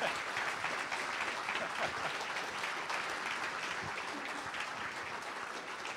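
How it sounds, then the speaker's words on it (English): An audience at a winter evening event gives volunteers a round of applause, dense, even clapping that continues for six seconds, fairly distant and moderate in level, with no talk over it. "Let's give a big round of applause for all of our volunteers."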